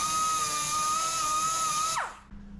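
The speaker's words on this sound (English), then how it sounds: "now that we got our hole drilled in the firewall there" A drill whines at a high steady pitch while boring a hole through a truck firewall, then quickly spins down and stops near the end of the short burst.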